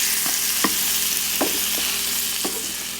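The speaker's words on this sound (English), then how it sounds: "So let that fry nice and golden brown on that side, and that's all you need to do." Pancakes fry in butter in a pan with a steady, close sizzle, punctuated by a few soft scraping or stirring taps, and no talking.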